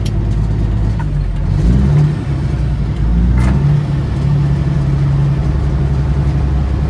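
Peterbilt 379 truck engine running loud and close, a deep diesel drone that rises and dips as the driver revs and shifts gears, alone without talk.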